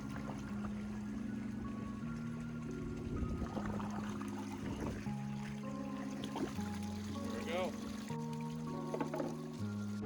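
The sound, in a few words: hot tub jets running, purging air from system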